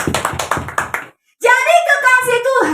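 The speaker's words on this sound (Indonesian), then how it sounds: "Tepuk tangan untuk Tuhan dulu." A church congregation at a Sunday service in Rote Ndao clapping in a quick rhythmic burst for about a second, then a short silence before a voice speaks.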